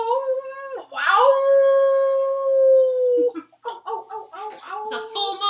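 A man imitates a wolf howl with his voice, one long sustained rising-then-steady howl lasting about two seconds, followed by a few shorter yipping vocal bursts, loud and close with no other sound.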